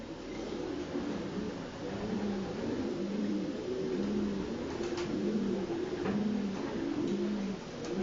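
A racing pigeon coos repeatedly in a soft, rhythmic pattern, fairly close, with faint background hiss and no talking.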